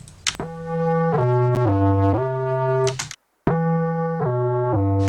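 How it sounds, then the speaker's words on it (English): Harsh, heavily distorted synth tones with a gritty, crushed buzz, stepping through a few sustained notes, broken by a brief silence before resuming. "crushing distortion."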